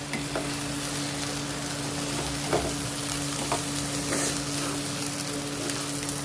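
Rice sautéing in masala for a potato biryani, a steady close sizzle with occasional soft scrapes of a stirring spoon against the pan, over a low constant hum.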